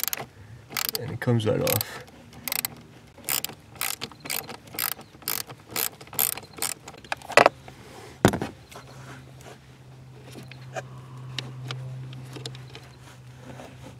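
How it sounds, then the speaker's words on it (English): Quarter-inch ratchet with a short extension clicking through repeated pawl strokes as it backs out a 5.5 mm bolt under a Chevy Impala dash, crisp near clicks in steady bursts, then a brief spoken remark and a low hum. "So you go in there with a small little quarter inch ratchet."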